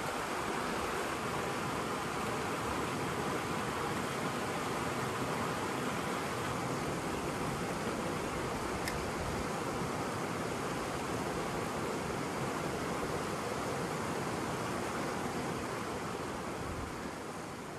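A loud, steady roar of a waterfall in the Victorian High Country, constant rushing water filling the whole stretch without a break.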